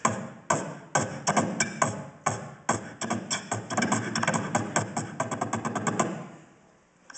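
A beatboxer performs a kick drum beat with the mouth, voice imitating the drum in a steady run of percussive thumps that gets quicker and denser, close and fairly quiet, fading at the end.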